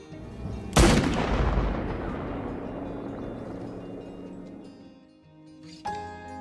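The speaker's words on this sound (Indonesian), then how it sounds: "sedang dikejar dan saling tembak dengan sekelompok pria" Gunfire in a cowboy film chase: a single loud, close blast with a long rumbling tail that slowly fades, then a sharper short burst near the end.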